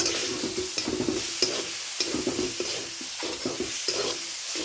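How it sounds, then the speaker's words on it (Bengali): A spice mix with water and cumin powder sizzles steadily in a pan while a utensil stirs it in repeated close scraping strokes over a constant frying hiss, with no talking. "আবার একটু জল দিয়ে কষিয়ে নিচ্ছি।"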